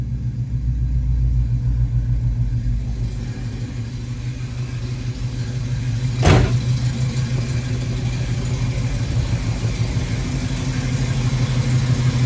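A 1972 Dodge Challenger with a 340 V8 and four-speed idles steadily, a deep, even rumble that holds close and constant throughout, with one brief sharp click partway in.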